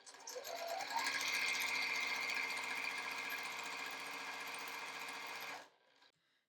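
A sewing machine stitches quilt pieces in a fast, steady mechanical whir with rapid rhythmic needle clatter, running close and continuous for over five seconds before stopping abruptly.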